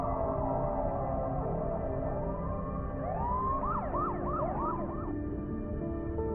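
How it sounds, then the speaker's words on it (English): Video game police sirens wail outside, rising and falling over a low rumbling background, then switch to a rapid yelping pattern, fairly loud as if passing nearby. "he hears the sounds of police sirens outside"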